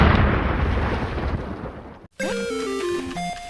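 Cartoon bomb explosion effect, a loud, close roaring blast that decays over about two seconds, then cuts abruptly to a bright descending musical jingle.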